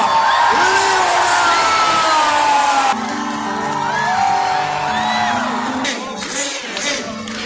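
A large crowd at a celebration for Croatian national-team goalkeeper Dominik Livaković in Zadar erupts in loud cheering, whoops and whistles, with applause underneath. The noise is dense and continuous, dipping slightly after a few seconds but staying strong.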